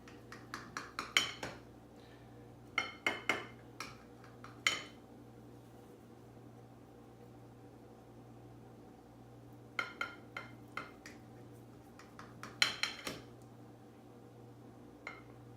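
An enchilada casserole is cut into six slices, with clusters of sharp utensil clinks and scrapes against the dish separated by quiet pauses, close and fairly faint.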